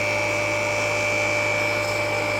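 Wood lathe running steadily while a hollowing tool takes a light shear cut, a constant loud whirring drone with a faint high whine and no speech.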